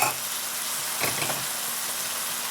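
SPAM sizzling and frying in a pan as it caramelizes, a steady close crackle with a brief stir partway through, no voices.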